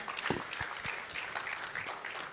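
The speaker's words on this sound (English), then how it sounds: "Please applaud her some more." A keynote audience claps briefly, a short burst of scattered, moderately loud applause in a hall.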